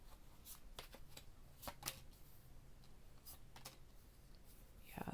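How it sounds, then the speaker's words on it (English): A deck of tarot cards is shuffled close by, making quiet, continuous riffling and flicking sounds with sharper snaps now and then, with no talking. "I'm going to get more cards here. I'm going to get 6 more cards."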